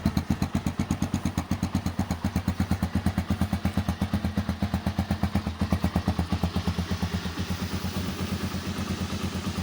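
A cold Tekken 250 motorcycle engine idles steadily nearby, a fast even chugging thump that holds a constant rhythm throughout with no voices.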